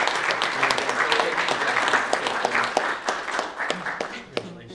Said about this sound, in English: give Cody a round of applause